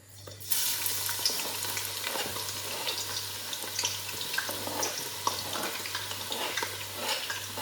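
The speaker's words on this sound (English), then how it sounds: "Okay, so this is my onion. I'm gonna put it in the oil." Onion sliding into hot oil for jollof rice, a sudden loud burst of frying that settles into a steady crackling sizzle, with a low hum underneath.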